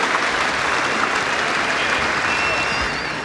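A big crowd at a 1988 New Zealand versus Australia one-day cricket match applauds in a sustained wash of clapping that fades slightly toward the end, with a commentator's voice faintly underneath.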